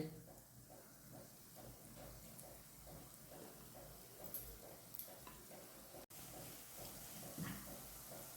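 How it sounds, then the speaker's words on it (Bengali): Matar kachori frying slowly in oil over a low flame makes a soft, continuous sizzle and hiss, faint and close, with a voice talking over it. "এবার নরম আঁচে ভেজে নিতে হবে।"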